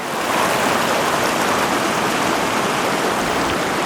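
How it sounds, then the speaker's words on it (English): Golden Creek pours out of Golden Lake in a mountain basin, a steady, close rushing of water that holds at one level throughout, with no voices over it. "here's Golden Creek coming out of Golden Lake"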